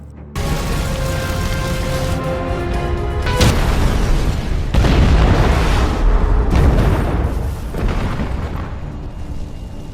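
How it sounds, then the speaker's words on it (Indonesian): A loud, sustained rumbling explosion roars continuously with deep booms and crackling bursts, filling the whole stretch without pause. "tempat itu akan segera meledak"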